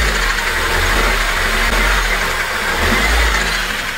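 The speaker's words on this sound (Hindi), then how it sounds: "तो ये है भाई उसके टैपिट की आवाज़, जैसे मैंने आपको बताया लिफ्टर आते हैं इसमें उसकी आवाज़ है ये।" Chevrolet Beat petrol engine idling close up, a steady dense mechanical drone with rapid faint ticking from the tappet lifters running throughout, no talking.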